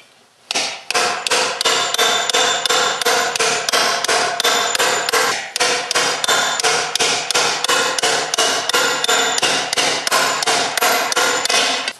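Coppersmith raising copper by hammering, a steady run of sharp ringing blows, close and loud, pausing briefly midway before the quick even strikes resume.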